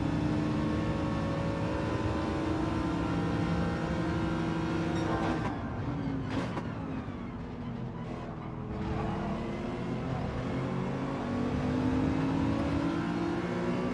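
A Nissan GT-R race car in Gran Turismo 7 at Monza holds a steady, loud engine drone with a brief lift and shift midway before pulling hard again, alone without voices.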